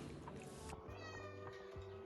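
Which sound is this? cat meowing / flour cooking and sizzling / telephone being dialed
cat meowing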